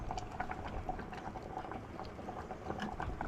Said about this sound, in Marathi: हांगसर खतखतो येवपाक सुरू जालो